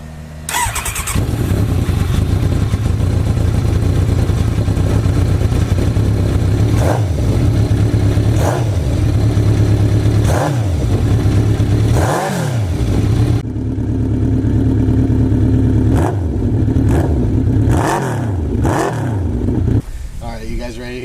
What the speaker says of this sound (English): we'll do a standard test with the stock muffler so you can see what that sounds like